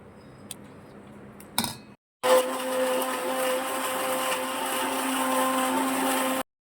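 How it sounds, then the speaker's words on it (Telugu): After a few clinks and handling knocks, a mixer grinder whirs into a loud, steady blend of homemade chutney for about four seconds before stopping abruptly. "మనకి రోల్ లేదు కాబట్టి మనం దీన్ని ఇలాగా మిక్సీ పట్టుకోవాలి"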